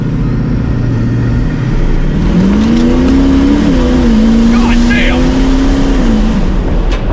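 A truck launching from about 30 and accelerating hard, loud engine roar climbing steadily in pitch over several seconds, up close, with someone shouting over it.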